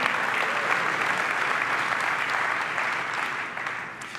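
An audience at the WWDC 2019 keynote breaks into loud, sustained applause that carries evenly and then begins to taper off near the end.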